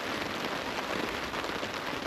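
Steady rain drumming on a tarp over a tent during a heavy storm with strong winds, a dense continuous patter with no voices.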